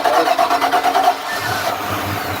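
A fuel-injected inboard engine on a 2010 Monterey 318 SC boat cranks with a rapid pulsing rhythm, then catches and settles into a steady low idle, close and fairly loud.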